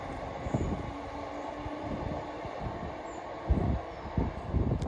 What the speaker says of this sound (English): Arriving now is the 1031 Scotrail service from Motherwell to Dalmuir.